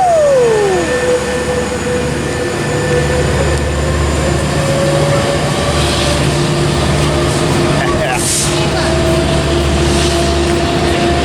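A Metrolink commuter train with locomotive 912 shoving at the rear rolls past close by, giving a loud continuous rumble with steady tonal engine drone and wheel noise.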